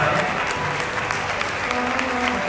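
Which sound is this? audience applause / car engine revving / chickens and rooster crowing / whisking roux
audience applause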